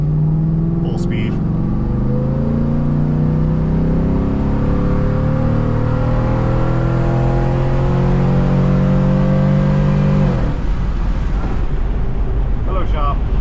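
A pickup truck with a 5.3 engine and a swapped 9.5-inch 14-bolt six-lug rear axle accelerates hard at full speed, engine pitch rising through gears with a shift near the end, loud and close with wind noise.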